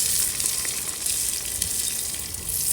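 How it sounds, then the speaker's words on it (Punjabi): Tadka sizzling for a vegetable dish of lobia (cowpea beans), a steady loud frying hiss with faint stirring scrapes, no voices over it. "ਸਬਜ਼ੀ ਨੂੰ ਤੜਕਾ ਫਟਾਫਟ"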